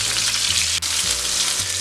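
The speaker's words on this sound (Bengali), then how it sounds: "মাছগুলো আমার ভাজা হয়ে গেছে" Pieces of fish frying in oil in a pan make a loud, close, continuous sizzle with a brief dip partway through, and no voices.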